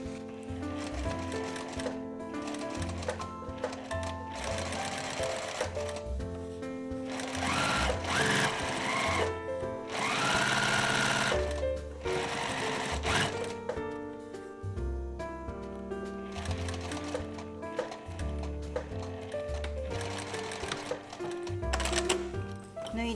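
Sewing machine stitching the center back seam of a garment up to the stopping point during dressmaking, running in steady mechanical bursts with brief pauses throughout.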